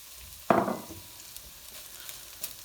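Warm cooked rice tipped into a hot pan for a shortcut biryani, giving one sudden loud sizzling burst that fades within a fraction of a second into a quiet low crackle.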